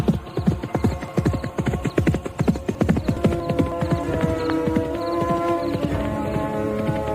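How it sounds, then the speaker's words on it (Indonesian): A riderless horse gallops away, its hooves pounding out a fast, loud, rhythmic clip-clop that carries on steadily throughout. "Kuda tanpa penunggangnya itu kemudian berderap meninggalkan Ken Arok."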